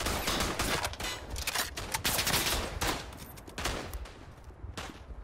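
Dense, rapid gunfire from a video game battle set in the Argonne, with overlapping shots and bursts crowding together in a continuous, loud barrage for the whole stretch, and no voices.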